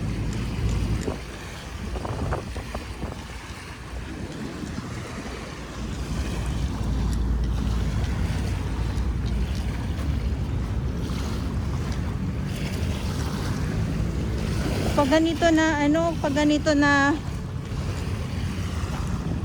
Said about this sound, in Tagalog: malakas ang hangin, tapos yung alon, maalon ngayon